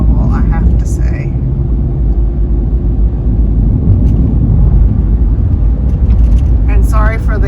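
A car drives along a bumpy road, its low engine and tyre rumble droning steadily beneath close, continuous talking.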